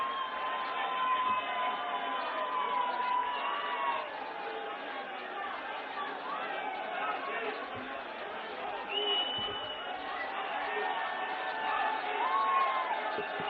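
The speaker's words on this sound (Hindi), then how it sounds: "तालियों के गड़गड़ाहट के साथ मित्रों आप स्वागत, अभिनंदन आप भी कर सकते हैं" A large crowd cheers and chatters in welcome for Prime Minister Narendra Modi in Delhi after a historic election win, a steady, dense roar of voices with occasional whoops rising above it throughout.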